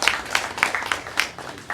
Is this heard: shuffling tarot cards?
no